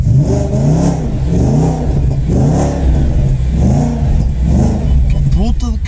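An Audi S5 with a V8 petrol engine revs hard again and again, loud and close, each rev climbing and falling back, with excited voices over it.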